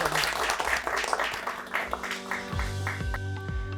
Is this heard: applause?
yes